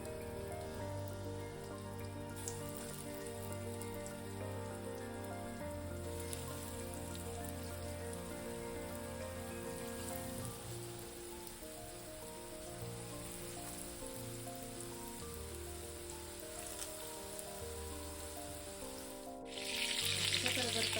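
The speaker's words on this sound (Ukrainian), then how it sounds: "Починаємо смажити наші котлетки." Steady crackling sizzle of zucchini, rice, mince and carrot patties frying in hot sunflower oil, continuous and close, with a faint tonal hum underneath and no talking.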